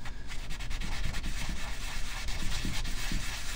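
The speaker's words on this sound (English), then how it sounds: "So I sand off the stone." A carved stone seal being sanded by hand, with a steady, close, continuous gritty rubbing and soft rhythmic scraping strokes and no talking.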